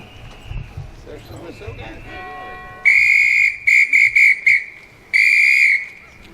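A shrill whistle is blown in several sharp blasts, one long, a few short bursts, then another long one, after some quiet background murmur.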